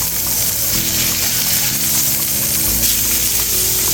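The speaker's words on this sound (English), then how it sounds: "See if we have a good sear on the meat." Steak sears in a hot pan, a dense, loud, continuous sizzle and crackle holding steady for several seconds, close up and with no talking.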